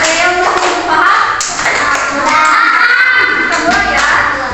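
Classroom rhythmic hand-clapping exercise: a string of sharp, evenly spaced claps from a group, close and clear, with a voice talking between and over them.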